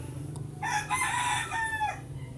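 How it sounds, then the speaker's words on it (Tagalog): A rooster crows once, a loud drawn-out call rising and falling over a low steady hum in the background. "Nakikisabay pa po yung manok."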